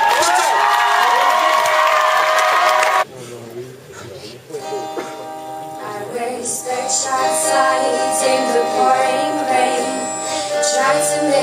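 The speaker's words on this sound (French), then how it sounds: "Merci d'applaudir Alison Botton." A crowd at a school talent show cheers and whoops loudly for a performer for about three seconds, then the noise drops sharply and guitar and singing take over with scattered crowd sounds beneath.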